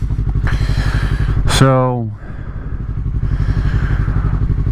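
A Yamaha R3 motorcycle cruises on a freeway at night, its engine a steady close drone with a brief rising-falling whine passing partway through, while a rider's voice speaks briefly over the noise.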